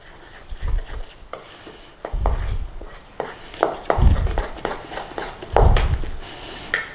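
A spoon works through stiff onion bhaji batter in a bowl, giving repeated thick squelching and scraping strokes in an uneven rhythm, close and fairly loud.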